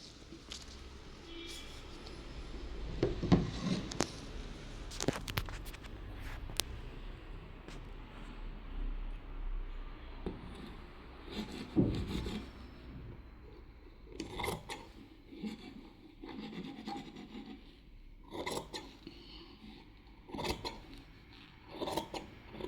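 Scissors cut through fabric for an umbrella-cut kurti, giving soft, intermittent rasping snips close by in a quiet room, with no talking.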